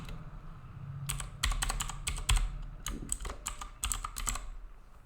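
Rapid bursts of keystrokes on a computer keyboard while a MySQL query is written, clustered clicks with short pauses between them, close and clear with no voices.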